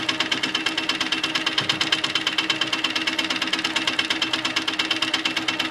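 A sewing machine stitching a quilt block, with a fast, steady mechanical chatter that runs close and loud without a break and no talking.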